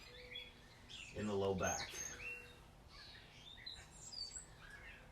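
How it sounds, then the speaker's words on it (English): Morning birds chirp and tweet outdoors at a moderate distance, a steady scatter of calls running through the whole stretch while a person speaks briefly over them. "All the birds are out chirping."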